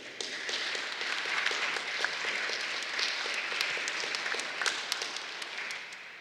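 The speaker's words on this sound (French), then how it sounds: "la communauté vous accueille avec un petit geste d'applaudissement pour manifester notre accueil pour nos amis" A church congregation at Sunday Mass claps in welcome for visiting friends, a steady mid-distance patter of many hands with scattered sharper claps, sustained for several seconds without speech.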